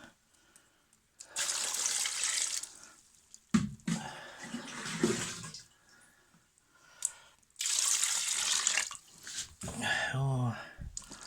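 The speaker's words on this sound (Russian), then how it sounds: "Сейчас залью это самое водой" Water from a kitchen tap splashes into a pot being filled for cooking a puppy's porridge, running in several separate bursts with short pauses between them, close by and moderately loud, with a voice briefly near the end.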